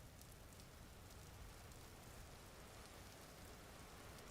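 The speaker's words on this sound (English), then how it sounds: "Yeah, it's raining." Steady rain falls outdoors near a pig, a soft continuous hiss of drops at low level with no voices.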